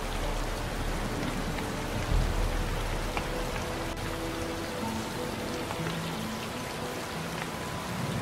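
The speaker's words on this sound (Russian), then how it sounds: "Я прям на себе ощущаю холод этого ледяного дождя." Icy rain falls in the video game Gothic 2 with the New Balance mod, a dense continuous hiss of drops on surfaces with a low rumble underneath, steady and enveloping, no talk.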